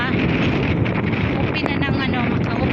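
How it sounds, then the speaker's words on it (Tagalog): Wind buffets the microphone while riding a motorbike, a loud, steady roaring rumble that fills the whole stretch without a break. "Naka-motor naman, mahangin."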